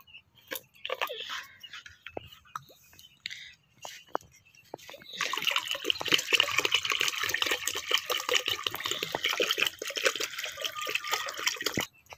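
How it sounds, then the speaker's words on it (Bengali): Cold water poured into a large bucket, starting with a few scattered drips and small splashes, then a sustained, fairly loud gushing pour that runs steadily for several seconds before stopping abruptly. "তো বন্ধুরা, আমি এবারে ঠান্ডা জলটা দিয়ে দেবো।"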